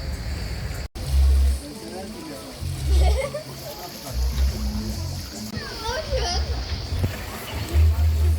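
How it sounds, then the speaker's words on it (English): Someone plunges into the sea from a boat off Fethiye with a loud splash, followed by ongoing sloshing and splashing while several people, including a child, talk nearby. "I'm going for a swim."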